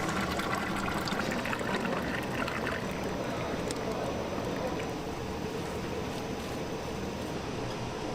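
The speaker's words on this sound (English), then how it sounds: "a machine used to siphon the rendered liquid out of the mixture." A siphoning machine draws rendered liquid sauce out of a mixture in an instant noodle factory, giving a steady watery, pumping wash over constant machinery hum, with no let-up across the whole stretch.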